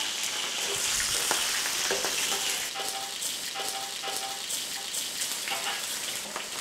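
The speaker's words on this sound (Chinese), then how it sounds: "羊油下锅， 葱下锅炸香" Scallions and Sichuan peppercorns fry in hot mutton fat, giving a steady, close, loud sizzle with crackling pops and occasional stirring clatter throughout, no talk over it.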